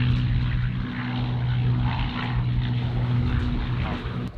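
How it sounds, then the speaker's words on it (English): A propeller-driven airplane flies overhead near an airport, giving a loud, steady engine drone with a low propeller hum that holds for several seconds, heard without talk. "There's a plane."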